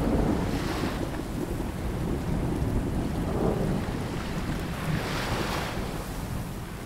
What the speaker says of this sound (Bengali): বাইরে আবার ঝিরিঝিরি করে বৃষ্টি শুরু হয়েছে।